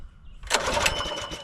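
A petrol garden tiller engine is pulled into life: quiet at first, then a sudden loud burst as the engine catches and runs roughly nearby with a rattling putter.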